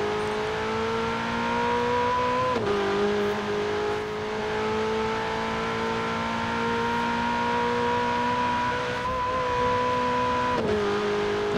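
Interior engine sound of a stock 2019 Ferrari 488 Pista in Forza Horizon 4, a steady loud drone with strong harmonics that dips briefly twice as if shifting gears, continuous with no talk.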